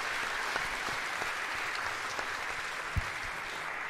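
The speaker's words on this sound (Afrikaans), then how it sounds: "Kom ons gee nou vir haar 'n lekker hande klap." A church congregation applauds a singer, a steady wash of hand claps filling the room at even loudness throughout, with a few sharper claps and thumps standing out near and a faint voice underneath.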